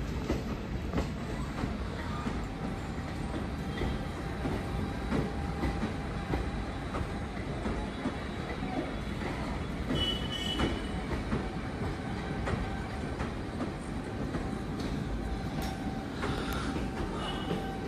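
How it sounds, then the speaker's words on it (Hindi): A summer special passenger train pulls out from platform one at Jaunpur Junction, a steady loud rumble of rolling wheels and rail clatter, with faint squeals, lasting throughout with no voices. "summer special train platform number एक से जीरो बयालीस सत्रह निकल चुकी है"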